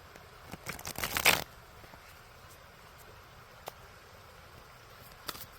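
A quick burst of riffling oracle cards being shuffled, a papery flutter lasting about a second, followed by near silence with a few faint ticks.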